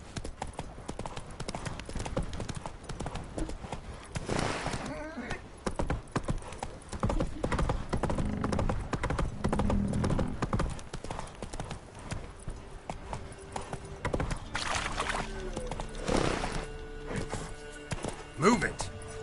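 Hooves of Roach, Geralt's horse in The Witcher 3: Wild Hunt, clip-clop in a quick, steady gallop over about twenty seconds, with occasional game voices and background sound layered over the rhythm.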